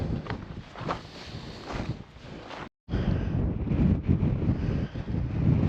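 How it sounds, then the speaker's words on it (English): Strong wind on a rocky mountain top above Tama Lakes, New Zealand, buffets the microphone in a steady, roaring rush, with one brief dropout, loud and continuous throughout. "Very windy up here."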